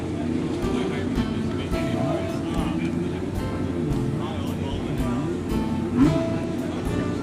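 The 1978 Dutch Grand Prix-winning race car, driven by Mario Andretti, runs its engine at a steady idle, heard under a commentator's talk at an outdoor concours show.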